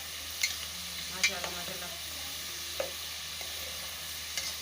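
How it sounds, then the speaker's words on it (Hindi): Potato chips (aloo ki chips) frying in hot oil as they turn golden, a steady soft sizzle with a few sharp stir clicks; a voice briefly speaks over it. "ये देखें माशाल्लाह चिप्स हमारे बनना शुरू हो चुके हैं, गोल्डन होना शुरू हो गए हैं"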